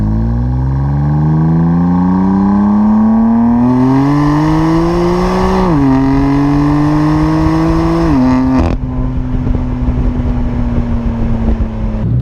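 A BMW M4 Competition LCI accelerating hard at high speed, its engine note climbing steeply through two quick upshifts before settling into a loud, sustained roar with wind and road noise.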